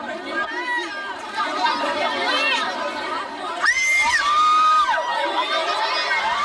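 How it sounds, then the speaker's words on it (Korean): A crowd of fans packs together and screams, with dense overlapping chatter and high-pitched shrieks rising in a loud burst midway; voices fill the whole scene. "눈길 한 번에 비명까지 지른다."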